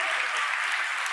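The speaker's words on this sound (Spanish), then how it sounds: "Dale más fuerte el aplauso a la palabra de Dios." A church congregation applauds during a Sunday afternoon service, a brief, steady wash of many hands clapping together at even loudness, with no talk over it.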